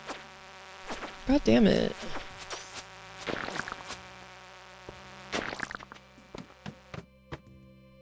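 Insects buzzing in modded Stardew Valley, heard as a short loud burst of whining buzz among sparse game sounds and clicks, with a man briefly swearing partway through.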